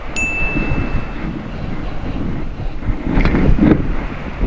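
Gusty wind buffets the microphone at sea off Kiamba, around a fishing boat, roaring in uneven surges with a brief clatter near the end and no talk.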